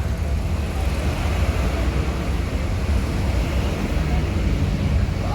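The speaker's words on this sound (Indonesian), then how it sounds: "bus Ramayana berangkat" A Ramayana intercity bus pulls away, its engine a steady, close low rumble with broad road-like hiss lasting throughout and no clear speech over it.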